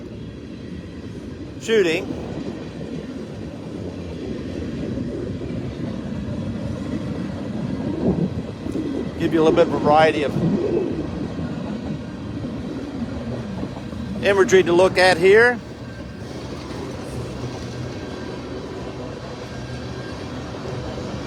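A CSX K422 northbound freight unit train rolls past at Mortons Gap, Kentucky, on the Henderson Subdivision, a steady low rumble of rail cars running throughout beneath someone talking almost continuously.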